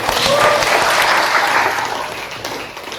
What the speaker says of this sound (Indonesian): Tepuk tangan buat nih.